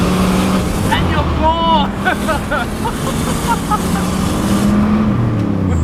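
A turbocharged Holden Commodore SS with an LS engine pulls hard under boost in second gear, a loud, rising engine roar heard from inside the car, with someone speaking over it.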